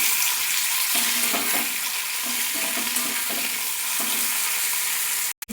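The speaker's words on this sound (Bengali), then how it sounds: "আলুটা ভালো করে লাল লাল করে ভেজে নিচ্ছি" Potatoes fry in a pan for a Bengali spinach and poppy-seed dish, giving a steady soft sizzle with a few faint stirring scrapes, fairly quiet and close, with no talking.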